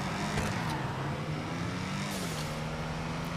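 A 2000 Nissan Silvia S15 Spec-R, a Karin car in GTA Online, drives along with a steady, continuous engine drone that holds near and loud throughout, rising slightly without any talk over it.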